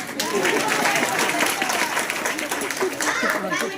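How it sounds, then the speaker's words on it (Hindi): Loud, sustained applause from the audience at a Haryana kavi sammelan poetry gathering, a steady wash of many hands clapping at once, close and continuous for the whole stretch. "ये जोरदार तालियां"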